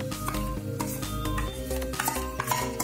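Cream stirred into spices frying in a pan for shahi paneer with poppy seeds, a continuous close sizzle with repeated clinks and scrapes of a spoon against the pot.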